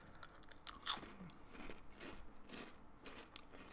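Greek oregano-flavoured Cheetos being chewed, with one sharp crunch near the start followed by quiet, close mouth sounds and softer chewing.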